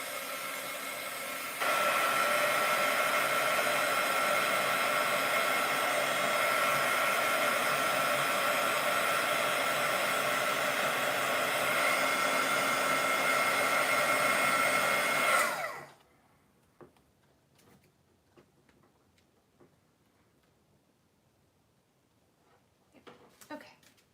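A hair dryer blows on a journal page, a loud steady whirring that runs for about fifteen seconds, then winds down and stops, leaving faint rustles and taps.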